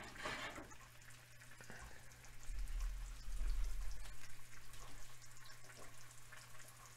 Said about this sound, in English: I'm going to use a little water to create some steam, about a little teaspoonful, and then just cover